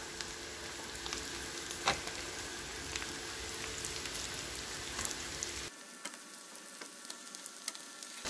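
Potatoes and carrots sizzle steadily in a pan with mincemeat, a dense crackling fry close by with occasional stirring clinks, the sizzle thinning noticeably near the end.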